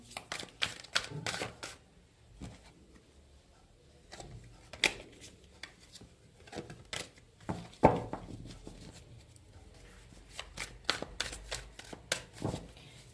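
Tarot cards drawn one at a time from a deck, giving close, irregular soft snaps and papery rustles separated by short pauses, with no talking.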